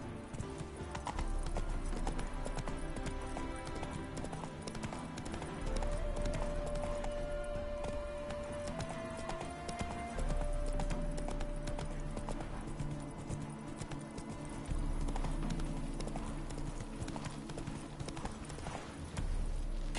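Horse hooves clip-clop in a steady galloping rhythm in The Witcher 3 video game, loud and continuous over game ambience, with a brief whinny-like tone partway through.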